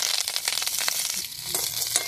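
Mustard seeds, green chilies and curry leaves sizzling in hot oil for a tempering, a loud close crackle with rapid popping and spattering throughout the short stretch.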